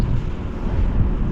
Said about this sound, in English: That fucking wind.